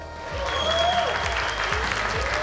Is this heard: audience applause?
yes